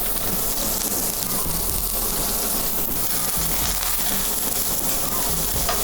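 A ribeye steak searing in a hot pan gives a dense, steady sizzle that stays loud and even throughout, with no voices over it.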